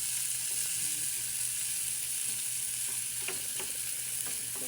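Onion, tomato and garlic sautéing in a pan, a steady fine hiss of frying with a few light spatula scrapes near the end, fairly quiet and continuous.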